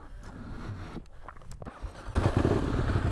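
An Aprilia Caponord 1200 motorcycle with its stock exhaust starts up nearby: some scraping and mechanical clicks come first, then the engine catches and settles into a louder, rough idle.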